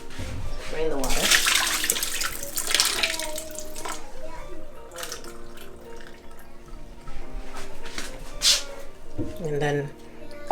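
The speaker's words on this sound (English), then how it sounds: "Drain the water." Water splashes and pours out of a bowl of soaking yam pieces being drained in a kitchen, in bursts of close trickling and rushing with small clinks and drips between them.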